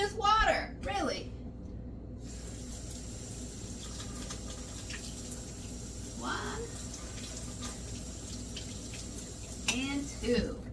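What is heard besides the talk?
water running from a tap into a cup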